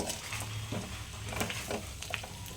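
Dry potato bhaji with fresh coriander is stirred in a hot pan, a soft sizzle under scattered scraping and clinks from the spoon.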